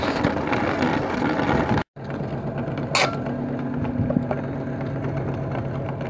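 A stationary bike generator is pedalled at high RPM, giving a steady whirring mechanical drone with a constant hum, broken once by a brief cutout and a sharp tick.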